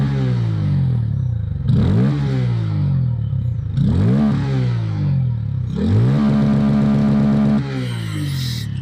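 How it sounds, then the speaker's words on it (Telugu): Bajaj Pulsar N160 motorcycle with an underbelly exhaust, revved hard three times in succession, each rise climbing and falling back to idle, then a held higher-rpm rev near the end; loud and close, with no talking. "ఫస్ట్ అయితే మీకు ఈ బైక్ ఎగ్జాస్ట్ సౌండ్ వినిపిస్తాను చూడండి."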